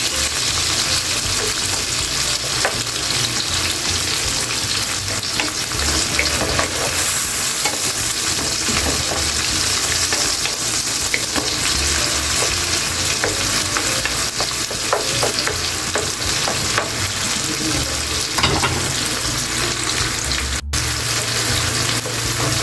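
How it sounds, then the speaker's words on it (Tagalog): Tomatoes are crushed and stirred in a frying pan while cooking for fried fish sarciado, with a steady sizzle under repeated scraping and stirring strokes throughout and no talk. "kailangan natin durugin at tutuin yung kamatis ng maigi"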